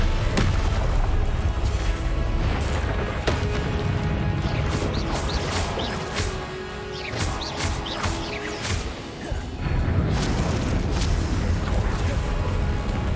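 Confringo spell blasts in the Hogwarts Legacy video game, dense booming and crashing explosions over continuous battle noise, with a player shouting spell names throughout.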